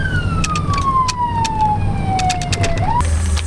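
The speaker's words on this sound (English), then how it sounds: "Sirens on, gas pedal down." A wailing rural ambulance siren sweeps downward and then switches to a new tone, loud and close over rumbling traffic.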